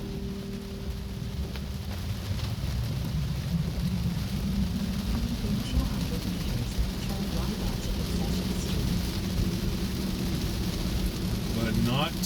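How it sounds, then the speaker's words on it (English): Heavy rain on a moving car, a dense, steady hiss of drops layered over low road rumble, continuous throughout. "The rain is much heavier."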